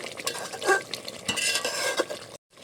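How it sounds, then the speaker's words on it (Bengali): A spoon stirring handi chicken meat in a pot, close wet scraping and sloshing strokes with light sizzling, ending in a brief silence. "এবারে মাংসটাকে নেড়ে চেড়ে গরম মশলা দিয়ে লাগিয়ে নেব।"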